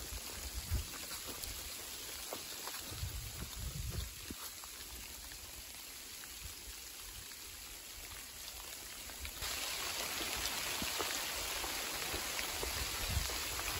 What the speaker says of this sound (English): It's sleeting again. It's little ice pellets falling from the sky.